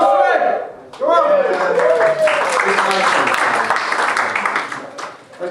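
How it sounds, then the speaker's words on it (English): A comedy club crowd claps and cheers for the next act, a dense burst of steady applause that fades slightly near the end, with a host talking over it. "Give him a round of applause for him."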